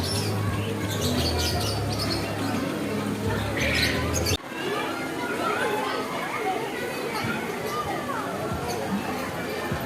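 Frightened birds at a pet show in Fort Kochi squawk and chatter loudly and continuously, mixed with a busy crowd's background voices.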